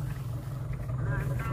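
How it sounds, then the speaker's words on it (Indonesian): A 1994 Suzuki Katana 4x4 with an upgraded suspension, its engine idling smoothly with a steady low rumble heard up close, while faint background noise drifts over it. "Bagus banget, mesin halus."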